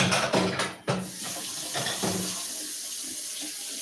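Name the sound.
tap water running, rinsing containers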